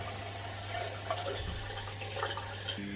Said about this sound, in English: I'm going to run the hot water so that I don't have to put my face under cold.